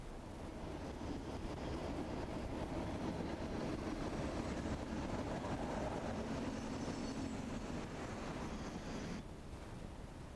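Class 37 diesel locomotive 37401 Mary Queen of Scots, built in 1965, running around its overnight sleeper train at Fort William before heading to the depot, a steady low rumble and rolling rail noise at a distance, with no talk.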